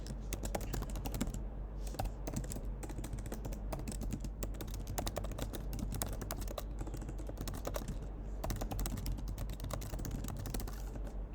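Typing on a computer keyboard, with rapid, irregular key clicks and taps in close, continuous bursts with brief pauses, alone and without talk.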